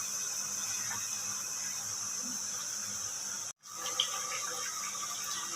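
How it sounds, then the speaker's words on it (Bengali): Bengali pitha cakes frying in hot oil, a steady broadband sizzle running throughout with a brief cut of silence partway, moderately loud and without any talk. "2 পাশ উল্টিয়ে পাল্টিয়ে ভালোভাবে ভেজে নেব।"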